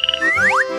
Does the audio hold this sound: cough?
no